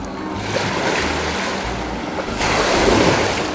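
Ocean waves wash onto a beach in a continuous, loud rushing roar, with gusty wind buffeting the microphone and a swell in the surf toward the end.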